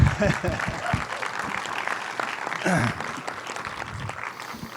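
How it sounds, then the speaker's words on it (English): An audience applauds for artists Alex and Allison Grey at an evening event, steady clapping running for several seconds while a voice talks over it. "let's get an applause there."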